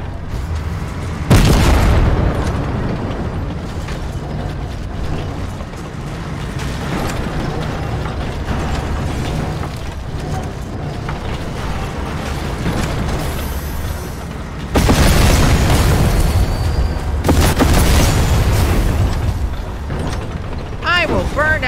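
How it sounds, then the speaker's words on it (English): Destruction in the Fortnite video game, with loud mechanical crunching and booming bursts of smashed structures at the start and again near the end, between stretches of busy game noise and music. "I'm gonna destroy everything until I die. I will destroy the Krusty Krab."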